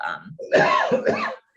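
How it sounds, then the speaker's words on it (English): A single raspy cough, short and throaty, heard fairly close in an otherwise quiet room. "Bless you. To whoever I just heard cough."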